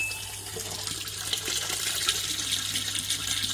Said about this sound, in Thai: เห็นไหมฮะเมื่อกด power นะครับ น้ำไหลเลยนะครับ